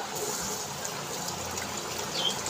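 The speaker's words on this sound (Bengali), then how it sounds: "একটু ভালো করে জল দিয়ে ধুয়ে নিলাম" Running water pours steadily as peeled onions are rinsed, a soft continuous splash and trickle heard close but at a modest level, with no talking.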